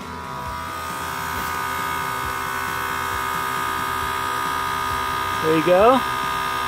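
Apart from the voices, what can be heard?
AirLift on-board air compressor running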